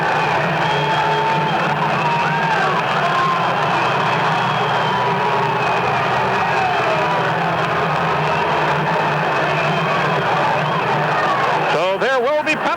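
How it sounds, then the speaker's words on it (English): A big crowd at a 1982–83 minor-league hockey game in an arena roars and cheers in a sustained, loud ovation with whoops rising above the din, steady throughout and closing with a sharp whistle-like burst. "But Frank Beaton getting an ovation from the big crowd here at the Coliseum."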